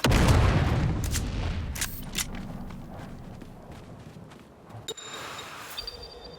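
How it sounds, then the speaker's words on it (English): A big low boom opens a firefight in the video game Dune: Awakening. Scattered gunshots, a grenade blast and clattering impacts follow and fade through the rest of the clip. "After a quick reload, it's back into the battle, with our friend coming from above and throwing out one more grenade."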